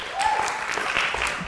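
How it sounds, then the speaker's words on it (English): Applause from an audience at a Richmond, California city council meeting, a steady wash of clapping that fills the short stretch at moderate level. "as you can see just from the applause"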